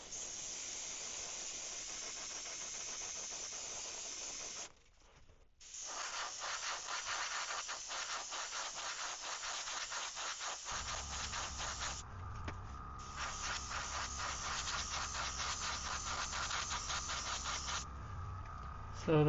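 A hobby airbrush spraying paint onto a 3D printed glidebait lure gives a steady, close hiss that runs almost the whole time, breaking off briefly once near the start and then carrying on with a slight shift in tone.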